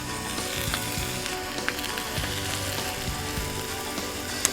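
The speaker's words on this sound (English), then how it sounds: "I'm going to flip these things around for some even searing. I hope you can hear that, man." Reverse-seared ribeye steaks sizzle and fry loudly in a Drip 'N Griddle pan. A dense, continuous crackle and hiss runs throughout, with a few small pops and scraping clicks.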